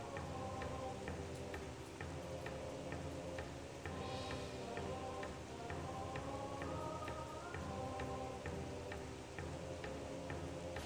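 Steady rain falls on a surface as ambience for a fantasy role-play story, with dense patter and scattered sharper drips ticking at a moderate level throughout, no voices.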